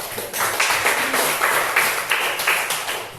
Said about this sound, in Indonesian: tepuk tangan dulu sekali lagi.